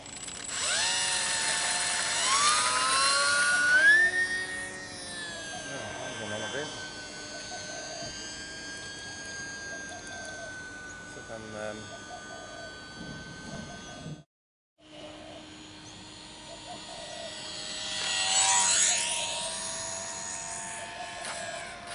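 A small E-Flite UMX Pitts S-1S radio-controlled biplane on its maiden flight, its electric motor whining steadily at moderate distance with rising and falling pitch as it passes, with people talking intermittently over it.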